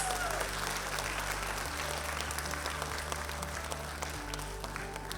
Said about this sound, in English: You could express your motivation with loud of claps.